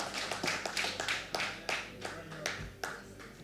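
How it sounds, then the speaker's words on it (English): A handful of people at a National Coaches Day awards ceremony clap in a quick, fairly regular rhythm at moderate volume, with some muffled background noise underneath. "A round of applause."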